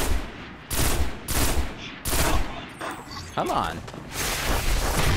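Rapid bursts of video game gunfire fired sideways, loud broadband volleys repeating in quick succession, with a voice speaking briefly over them.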